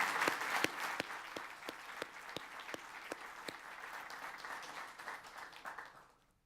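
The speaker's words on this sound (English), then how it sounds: "they're all applauding now because we're online" Applause from a seated audience at a government house investiture ceremony, steady hand claps spread across the room, heard at a faint remove and fading out at the end.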